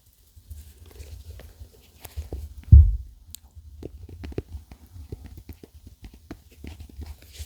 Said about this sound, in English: a fuzzy material on it, which is what's making this kind of like rubbing noise.